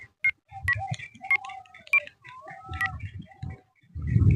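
A series of short, evenly separated keypad tones as a number is dialed, with low rumbling handling noise in between and near the end.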